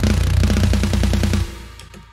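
A programmed metal drum line fires off an extremely fast, machine-like blast of kick and snare hits, loud and dense, ending abruptly after about a second and a half.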